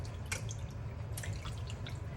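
Water drips and trickles while rinsing a telescope mirror, with a few sharp splashy drops over a steady low running-water wash, close up and moderately loud, with no talking.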